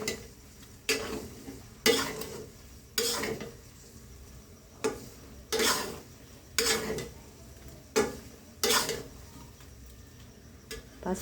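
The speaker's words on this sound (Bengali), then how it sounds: "পাঁচফোড়নের গুঁড়োটা দিয়ে ভালো করে নেড়ে চেড়ে নিচ্ছি।" Panch phoron powder being stirred into a sun-dried oil pickle, with a spoon scraping and clinking in a steady series of about ten separate strokes, near and fairly soft, no voices.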